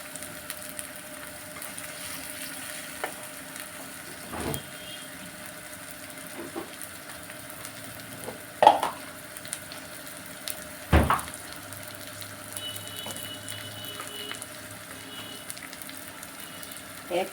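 Garlic frying in a pan for a dried fish curry gives a steady, close sizzling hiss, broken by a couple of sharp utensil knocks partway through.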